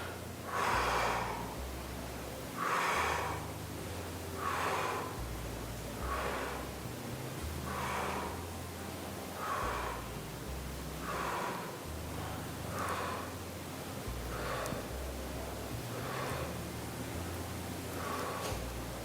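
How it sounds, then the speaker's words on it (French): Heavy rhythmic breathing during a bodyweight strength workout: about a dozen forceful exhales repeat every second and a half or so, close and loud, with steady inhales between and no talk. "on expire sur la montée et on inspire sur la descente"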